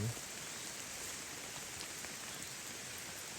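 Heavy rain falls steadily in a forest, an even, dense hiss of drops with no break, fairly faint and continuous.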